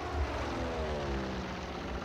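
Propeller aircraft flying in the Combat Mission Red Thunder war game, a steady droning engine hum that holds for the whole moment over a dense battle soundscape.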